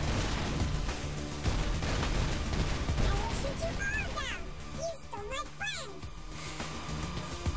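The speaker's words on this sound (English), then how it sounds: "I will shoot you all down." Gunfire in the video game Saints Row IV: dense, continuous bursts of shooting and explosions pack a loud game mix, with chirpy synthetic effects and voices mixed in throughout.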